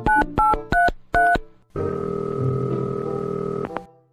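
Four short telephone keypad tones beep in quick succession, then a steady ringback tone hums for about two seconds before cutting off.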